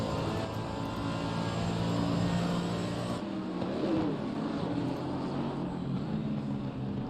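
Mercedes GT3 race car engine in Assetto Corsa Competizione, heard as a steady, loud onboard drone at high revs with a brief drop in pitch partway through, and no talk.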